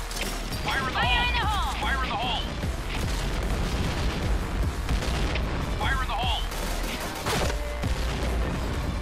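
Gunfire and explosive blasts from a Point Blank shooter match, with a grenade going off amid rapid shots and ringing effects, loud and dense throughout, with game voice lines and chatter over the top.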